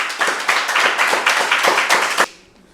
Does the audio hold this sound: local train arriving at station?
no